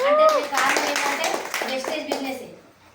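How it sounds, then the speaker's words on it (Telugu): A small group claps together at a business meeting, roughly even rhythmic hand claps in a close, fairly loud burst, with a voice speaking over the start and children's voices around. "క్లాప్స్ కొట్టాలి అందరూ ఒకసారి."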